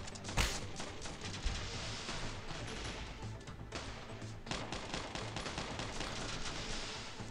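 A gun turret fires in the video game WarFriends as continuous rapid automatic gunfire with a few louder bangs. The sustained, dense barrage plays at low volume with no talk over it.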